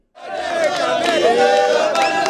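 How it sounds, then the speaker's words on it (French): Large crowd of UNC party supporters greeting Vital Kamerhe at Kavumu airport, a loud continuous roar of cheering and shouting voices that swells in abruptly and holds steady. "il ne pouvait pas s'échapper de la foule immense des militants de son parti UNC"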